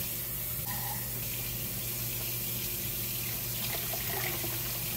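Water pouring steadily into a pot of chili beans, a continuous, close running-water rush with a faint hollow filling tone and no talking.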